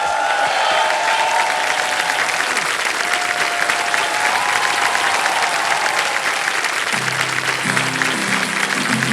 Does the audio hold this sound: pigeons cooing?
no